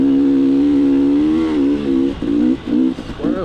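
A dirt bike rides on sand in South Florida, its engine droning loud and close with a steady buzzing tone that breaks into choppy throttle blips and revs toward the end.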